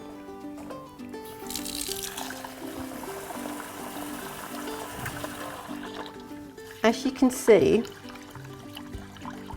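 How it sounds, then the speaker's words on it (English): Water sloshes and pours over rice being washed in a bowl for jollof rice, with a brief burst of louder splashing near the end while a person talks throughout. "So I'm going to begin with washing the rice."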